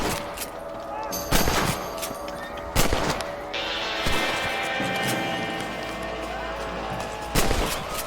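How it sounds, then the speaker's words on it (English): Gunshots fired at rabbits and outlaws in Red Dead Redemption 2, a few loud separate rifle cracks ringing out over a steady outdoor background, with a voice speaking in between. "Better shoot rabbits and outlaws"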